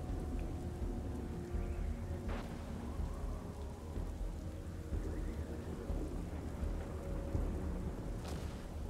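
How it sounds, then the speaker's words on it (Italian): Close thunder rolls through a stormy scene in the video game Strayed Light, heavy rain hissing steadily throughout with two sharp cracks standing out, one near the start and another near the end. "Stava vicinissimo sto tuono"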